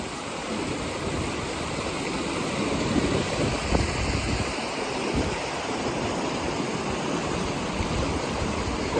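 Rainwater rushes loudly down a flooded driveway leading up to a cemetery in Knott County, Kentucky, a steady broadband roar of turbulent runoff like a river, continuous throughout with no talk.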